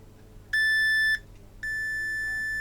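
A multimeter in continuity mode beeps during a test on old battery-contact wires of a corroded E.T. Furby: two steady electronic tones, the first about half a second long and the second held on, in a quiet room.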